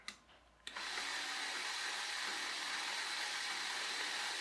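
The small motor of a papier-mâché model windmill switches on and settles into a steady whirring hum with gear noise from its gear train, fairly quiet and close.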